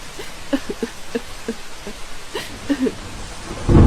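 A rain sound effect for an animated story: a steady patter of scattered drops with a brief louder rush at the end, and faint voices murmuring underneath.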